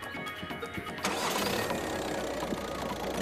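A VW Touran's four-cylinder injection engine cold-starts with an abrupt jump in loudness about a third of the way in, then runs on as a steady, fairly loud, rough idle close by.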